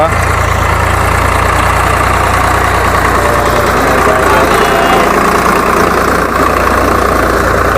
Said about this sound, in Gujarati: ટ્રેક્ટર હાંકે છે આપણા ખેતરમાં